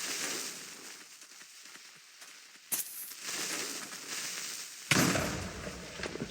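Sharp bursts and booms of game explosions, a couple of sudden loud blasts standing out over a hissing, crackling background.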